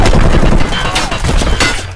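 Enemy gunfire in a video game, a rapid, dense fusillade of loud cracking shots packed into a brief burst, close and harsh, fading slightly at the end.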